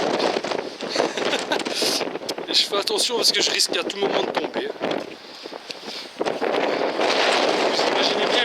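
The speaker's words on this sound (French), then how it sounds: "il y a beaucoup de vent" Strong wind on the Brittany coast buffets the microphone in loud, gusty rumbling bursts, easing briefly midway before surging again, while a person talks over it.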